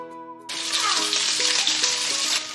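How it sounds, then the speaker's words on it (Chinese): Lamb chops drop into hot oil in a pan and set off a loud, steady sizzle, with a short tonal ring at the start before the frying hiss takes over and holds close up. "锅中加油，我们把羊排放下去，"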